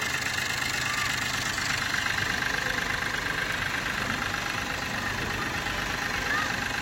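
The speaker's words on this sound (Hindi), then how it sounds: "तो गाड़ी हमारी स्टार्ट हो चुकी है" A car engine idles steadily after starting in a workshop, with oil built up in the silencer being burned off, a constant loud hum and rattle with no break.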